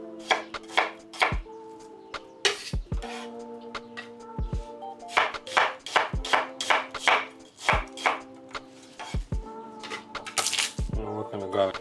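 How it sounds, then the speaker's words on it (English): A knife rough-chops vegetables on a cutting board in a kitchen, giving a quick, irregular run of sharp, close knocks that continues steadily, with a voice talking throughout. "I'm just going to rough chop to make it easy for the blender."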